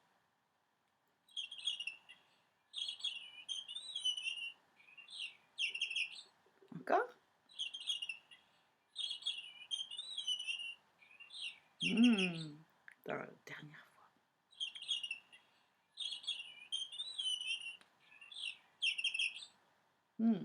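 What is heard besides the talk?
bird singing a Christmas song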